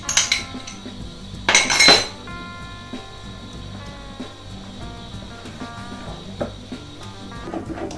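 Cherry almond loaf cake batter being mixed in a bowl, with utensil clinks and scrapes against the dish, a couple of louder knocks, and quieter stirring scrapes throughout, close by and without speech.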